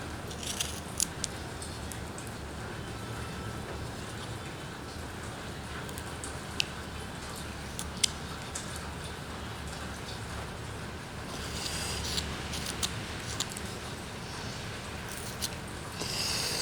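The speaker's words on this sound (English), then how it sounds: "let me cut this arm down just a little bit" The arm of a carving roughout being cut down, heard as a steady close scratchy cutting texture with scattered small clicks and taps throughout.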